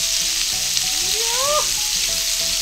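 Meatballs frying in a pan as they brown on each side: a continuous hiss of sizzling oil with soft stirring knocks and one short rising whine in the middle.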